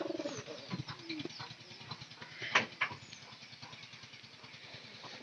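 Pigeons in a new loft with eggs cooing softly, low repeated coos at a distance amid faint background noise, with a brief sharper burst near the middle.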